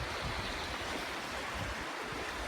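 A wide, muddy river swollen with flood water from the fields rushes past in the woods, making a steady broadband roar of flowing water, close and continuous with no voices.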